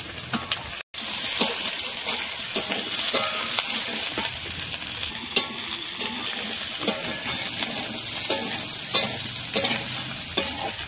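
Vegetables sizzle loudly in a pan as a vegetarian dish is cooked, with constant stirring scrapes and clatter over a dense frying hiss and a brief drop in sound near the start.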